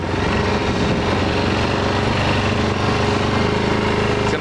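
A 2005 Honda Rincon ATV engine runs loud and close, a steady buzzing drone with no pauses, heard out on a winter trapping line.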